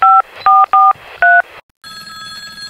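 A mobile phone number is dialed: four short, loud keypad tones in an uneven rhythm, then a brief silence and a steady ringing tone from the handset.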